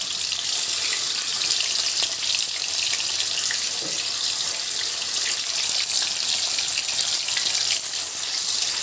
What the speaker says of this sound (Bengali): তেল গরম হয়ে গেছে এবার এক এক করে দেখো পনিরগুলো ওর মধ্যে দিয়ে দিচ্ছি